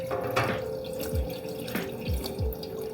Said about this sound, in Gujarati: આ રીતે આપણે એક એક પાન કરીને સારી રીતે ધોઈ લઈશું